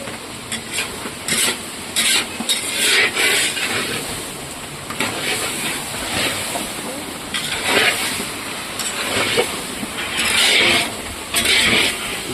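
Boiled young jackfruit stir-fried in a pan, cooked down like meat: repeated scraping and rasping strokes of a spatula against the pan in uneven bursts, with a light sizzle underneath throughout.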